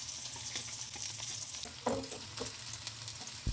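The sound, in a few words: stir-frying onion, garlic and green chili in oil with cumin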